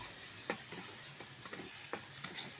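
Onions frying in a tempering for an egg dish, a quiet steady sizzle broken by a few spoon scrapes.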